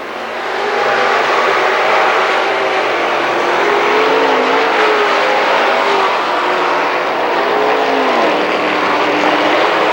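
Late model race cars roaring around a dirt speedway oval on the final lap, a loud continuous engine drone with pitch sweeping up and down as cars pass, heard from a distance without talk.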